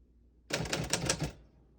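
A 1955 Royal HHE vintage desktop typewriter being typed on, a quick burst of several crisp mechanical key strikes lasting under a second in otherwise quiet surroundings.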